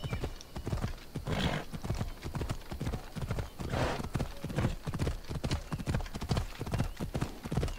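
Horse hooves clip-clopping at a steady trot in the video game Assassin's Creed Odyssey, close and rhythmic throughout, with a few faint snorts.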